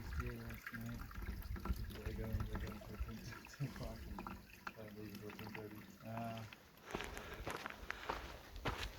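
Water runs and splashes at a trail water source on the Pacific Crest Trail near an alpine ridge, mixed with nearby footsteps and a voice talking over it.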